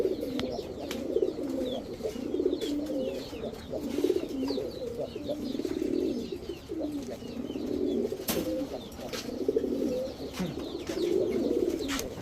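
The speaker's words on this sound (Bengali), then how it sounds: "এক জোড়া টুর্নামেন্টে অংশগ্রহণ করা মাইদম কবুতর" A pair of tournament-flown Maidom pigeons coo steadily in a loft, the soft rolling coos repeating in close, continuous bursts with a few faint chirps and clicks around them.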